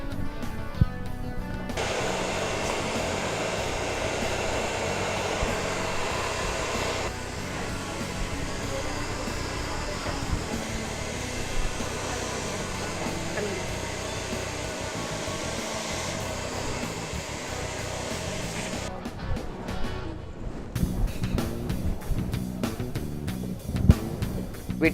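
A hair dryer blows steadily during a kids' haircut at a salon, a loud, even whoosh lasting most of the clip before it cuts off, leaving brief handling clatter.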